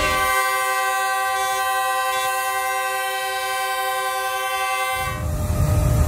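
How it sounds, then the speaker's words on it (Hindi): A Karakoram Express passenger train in Pakistan sounds a long, steady, loud horn for about five seconds, then cuts off, leaving the rumble of the train running close by. "आज की ये पहली ट्रेन होगी 5 अक्टूबर की, जो कि कराकरम एक्सप्रेस चलेगी 38 डेज बाद"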